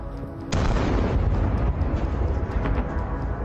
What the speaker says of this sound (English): we also get to see spectacular explosions. This Russian tank was also blown up in the same way.